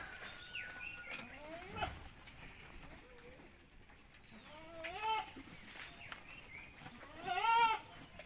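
Goats bleating several times over a farm background, a few wavering calls spread out, the loudest near the end, while they feed on papaya tree waste.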